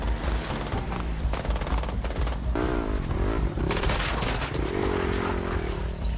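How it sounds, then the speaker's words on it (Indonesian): Rapid bursts of automatic gunfire ring out in a film scene where Pablo Escobar's hired hitmen shoot the justice minister, loud, dense volleys mixed with a film score and scraping effects. "mereka pun langsung menembak sang menteri hingga tewas"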